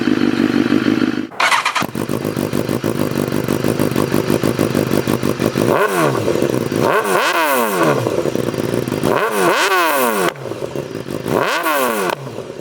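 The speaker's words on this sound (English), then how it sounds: "We'll go ahead and do 2 clicks down and start it up." A 2019 BMW S1000RR sport motorcycle engine starts with a cranking burst, then idles loudly and revs several times in sharp rising sweeps nearby.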